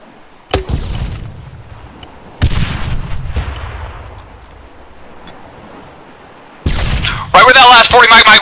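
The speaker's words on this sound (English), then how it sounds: "Getting 40 Mike shot at us." 40mm grenade rounds bursting nearby in ArmA 3: several heavy, booming blasts spaced seconds apart, each trailing into a long rumbling decay, with a burst of crackling noise at the end.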